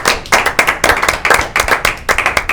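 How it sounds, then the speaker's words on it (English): Applause from an audience at a local evening talk show event, a close, loud burst of hand clapping with uneven rhythm that continues steadily throughout. "So a round of applause."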